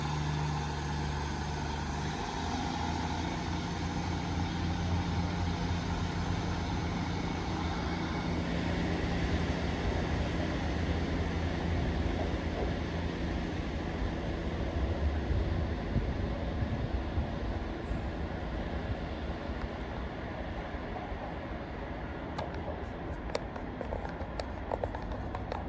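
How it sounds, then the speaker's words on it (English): A Class 150 diesel train pulls out of Rochdale station bound for Blackburn, its engine a loud, steady rumble that holds throughout, with higher rattles and squeals creeping in toward the end. "Train now departing finally is 150 going to Blackburn."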